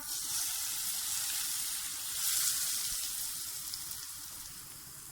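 Hot oil sizzles and crackles steadily with turmeric and nigella seeds in it, a dense hissing fry for a pickle tempering that swells slightly midway and carries on without pause.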